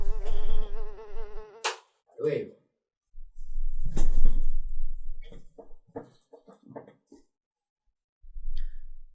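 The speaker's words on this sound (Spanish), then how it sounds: "Perdón, hay una mosca. Tengo que matarla o me voy a enloquecer." A housefly buzzes in a room in a short, wavering drone up close at the start, then a person talks in bursts with pauses.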